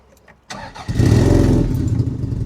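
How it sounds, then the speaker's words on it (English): A Toyota MR2's engine struggles to start, cranking briefly, then catches and settles into a rough, uneven idle rumble, close and loud. "the car was very much so struggling to start"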